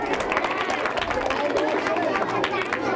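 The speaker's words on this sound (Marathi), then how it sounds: "अचूक उत्तर दिल्याच्या जोरदार टाळ्या." Strong applause and crowd noise for a correct answer at a Marathi quiz event, dense clapping mixed with chatter, steady and loud throughout.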